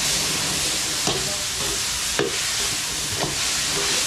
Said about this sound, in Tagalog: Gigisa lang natin to.